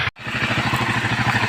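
A generator engine running deep inside an underground gold mine near Baguio, chugging in a steady, rapid rhythm that sounds close and loud. A brief dropout comes near the start, and then the engine runs on without a break.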